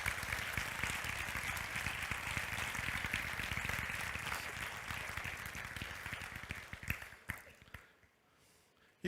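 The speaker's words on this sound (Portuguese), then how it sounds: "Pode aplaudir a Jesus, pelo amor de Deus." A church congregation applauds, dense, steady clapping that fills the space for several seconds and then thins out and fades.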